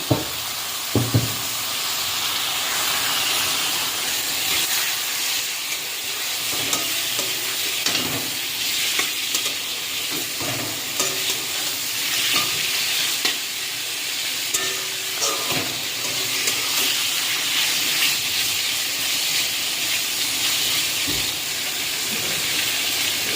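Chicken frying in spiced masala that has cooked down until the oil separates, for chicken ghugni: a loud, continuous sizzle broken by repeated scraping and stirring knocks of a spoon in the pan.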